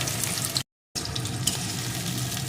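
Chopped onions hit hot oil in a kadai with a steady hissing sizzle that fills the clip, broken by one brief silent gap, with no talking.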